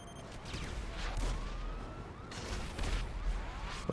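Gunfire in a city fight within a video game, sharp shots scattered through a dense, busy battle mix with sirens and crashes, fairly loud throughout.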